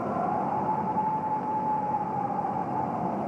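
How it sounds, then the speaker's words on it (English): A steady, droning siren in an analog horror film wails continuously with a slightly wavering pitch, loud and unbroken over a dense rumbling background. "That siren sounds like someone shouting."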